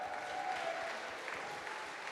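Audience applause at a talk with the Friday the 13th actor who plays Jason, a steady wash of clapping held at moderate level throughout, fairly distant.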